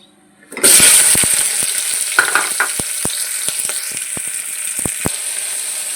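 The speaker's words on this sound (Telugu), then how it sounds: "మనం ఉల్లిపాయలు వేసేసుకోవచ్చు" Onions dropped into hot oil for mutton curry burst into a loud sudden sizzle after a brief quiet moment, then a steady frying hiss with repeated clinks and scrapes of a stirring spoon, close by.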